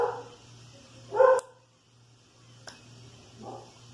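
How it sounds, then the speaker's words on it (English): A dog barks in a short loud burst, followed by a quieter yip and a faint whimper, close by in a quiet room with a low hum underneath. "Dogs."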